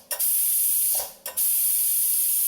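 A pressure cooker on a gas stove, used for cooking stuffed brinjal, vents steam after two whistles, with two loud sustained hisses separated by a short pause, close and dominant.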